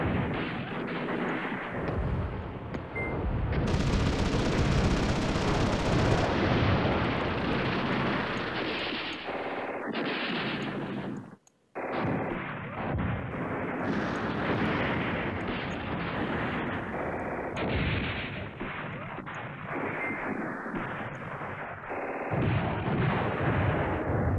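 Artillery and gunfire rumble through a battle in the wargame Command Ops 2, a dense, continuous barrage of booms and shots. It is loud and unbroken apart from one brief gap near the middle, with no talk.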